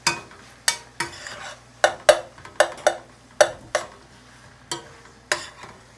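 Rice stuffing for stuffed bell peppers is mixed thoroughly in a bowl, making a steady run of distinct scraping, clinking spoon strokes, about a dozen sharp hits at an irregular rhythm, close and fairly quiet.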